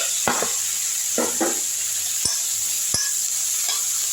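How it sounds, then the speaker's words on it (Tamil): Tomatoes sizzle in oil in a frying pan while being stirred for a green turkey berry powder rice dish, a constant bright hiss with a few sharp scrapes and clicks of the spoon against the pan. "தக்காளி நல்லா வதங்கட்டும்."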